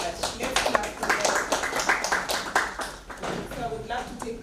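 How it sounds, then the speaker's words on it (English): An audience at a youth agripreneurs side event claps together in quick, uneven rhythm, with voices and talk mixed underneath the clapping throughout. "Let's clap together."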